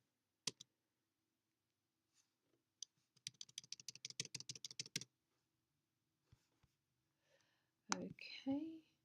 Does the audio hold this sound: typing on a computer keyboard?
yes